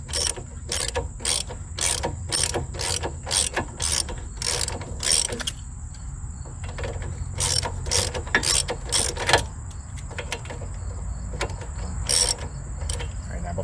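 Rapid clicking of a ratchet wrench with a 19mm socket as it loosens the nut on a car's sway bar end link during front strut replacement. Quick ratchet bursts repeat, pause, then start again, close and loud with no speech.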